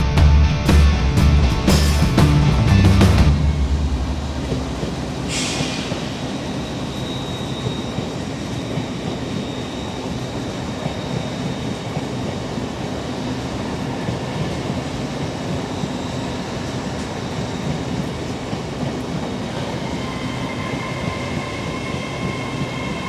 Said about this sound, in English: Of the 1611 Azuma service to London King's Cross